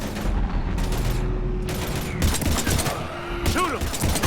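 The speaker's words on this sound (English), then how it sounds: "We're taking heavy fire." Heavy gunfire in the Mass Effect 3 video game, dense bursts of shots and booms filling the clip over a steady low rumble, with voices talking underneath.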